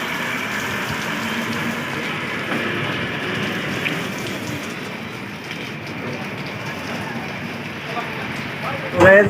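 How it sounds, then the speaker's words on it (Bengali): Steady rain pours down, a dense, even hiss of drops striking a surface nearby, continuing without a break. "অনেকদিন পরে বৃষ্টি হয়েছে"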